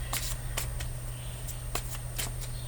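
Tarot cards are shuffled by hand in a quiet room, giving several short crisp riffling bursts at an irregular rhythm over a low steady hum.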